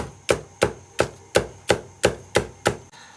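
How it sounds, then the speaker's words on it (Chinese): Knife on a cutting board slicing green onions into horseshoe-shaped pieces: eight sharp, evenly spaced chops about a third of a second apart, close and clear, with no talking. "切点葱，切成马蹄状"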